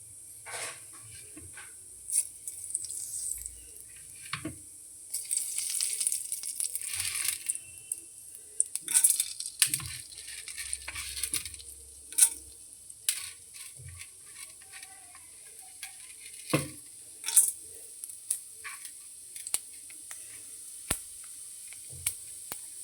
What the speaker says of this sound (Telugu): మినపప్పు, పల్లీలు, కరివేపాకు వేసుకొని వీటిని మంచి గోల్డెన్ బ్రౌన్ కలర్ వచ్చేంత వరకు ఫ్రై చేసుకోవాలి.